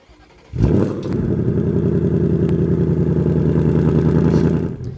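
A 2024 Ford Mustang Dark Horse V8 (500 hp) fires up by remote start after a near-silent moment. A sharp crank-up flares into a loud, loping, lumpy idle that holds steady for several seconds, then eases down at the end.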